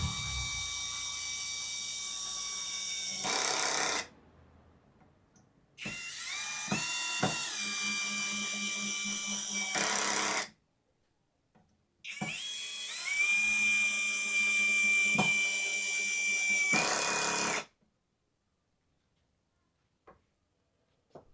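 A Zper 10mm brushless drill runs at speed 1 in three separate bursts, each a loud steady high-pitched whine with a ratcheting buzz underneath, separated by short silences and ending in quiet.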